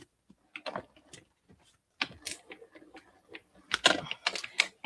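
A die-cutting machine presses card stock with irregular clicks, clacks and ratcheting bursts, quiet between actions, the loudest cluster coming toward the end.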